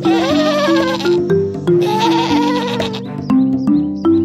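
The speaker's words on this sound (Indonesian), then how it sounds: "seekor kambing kelaparan muncul di hadapannya" A hungry, very thin goat bleats repeatedly at close range, with several wavering, nasal calls in a row and brief pauses between them.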